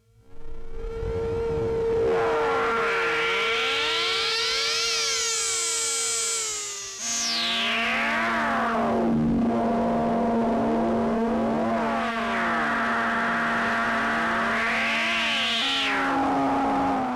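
A PWM Malevolent analog synth with noise cross-modulating the filter through FM screams out loud, sweeping, metallic tones that rise and dive in pitch, with bright harmonic zigzags and abrupt jumps between shifting drones, alone with no talk.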